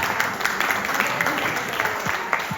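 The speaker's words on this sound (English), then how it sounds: "A little applause" An audience at a talk applauds briefly, a dense patter of clapping hands that stays steady and moderately loud for a couple of seconds.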